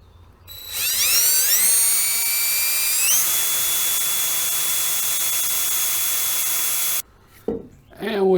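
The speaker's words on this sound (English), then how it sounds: "I want to make sure this drill is perpendicular to this wood." A power drill whirs close up as it bores holes into wood for recessed rifle sling swivels, its pitch rising as it speeds up, then holding a steady high whine for several seconds before stopping.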